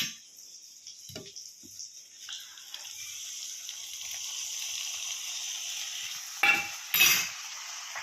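Spiced sour-yogurt batter poured over paneer frying in a pan for paneer bhujia, giving a steady close sizzle with soft stirring scrapes and a couple of brief metallic clinks near the end.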